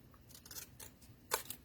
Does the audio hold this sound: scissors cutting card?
yes